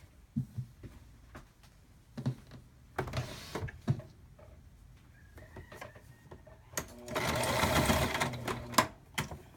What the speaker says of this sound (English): you're basically just sewing both of the material together